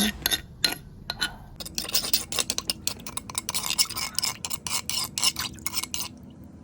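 Leftover Thai curry paste is stirred with a little water in a stone mortar, giving irregular scraping clinks and taps of a pestle or spoon against stone, fairly faint and close.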